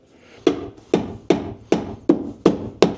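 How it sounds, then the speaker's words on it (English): Seven sharp hammer blows drive staples to secure electrical wire for an outdoor flood light install, landing at a steady, slightly uneven rhythm, close and crisp with no talk. "We're gonna staple here."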